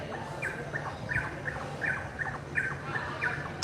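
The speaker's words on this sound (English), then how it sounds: "Oh, there's a beautiful bird." A bird outdoors repeats short, squawky chirping notes in a steady rhythm, several calls spaced across the clip over a low background hum.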